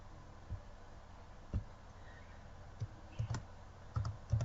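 Keys on a computer keyboard are typed while a form value is entered, giving sparse, soft clicks that start isolated and bunch into a short burst of keystrokes near the end, close and quiet over faint room hiss.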